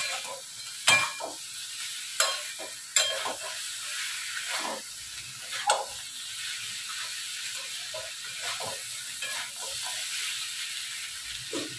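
Potatoes and bori pieces fry in a pan with spices as a spoon stirs them, giving a soft steady sizzle broken by a few sharp scraping clinks, heard alone without talking.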